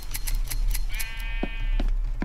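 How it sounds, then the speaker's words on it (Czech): Sheep in Minecraft: Story Mode bleat while being sheared: one drawn-out wavering bleat, then shorter bleats, mixed with quick clicking game sounds over a low background hum. "ostříháme ovce"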